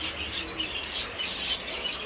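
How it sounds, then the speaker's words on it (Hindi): Several small birds chirp and tweet in quick, overlapping bursts, fairly close, at a bird market with pigeons, with a faint background hum and no voices. "इधर भी है परिंदे कबूतर भी है इधर"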